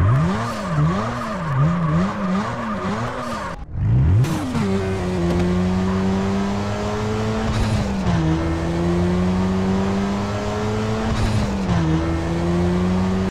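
A car engine in the game Black Russia (GTA CRMP) drones and revs, its pitch rising and falling through gear shifts, with a brief cut near the start; steady and loud, no talking.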